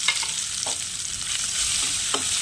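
Ground prawn paste frying in a pan, a close steady sizzle with a few scraping stirs of a spoon across the pan.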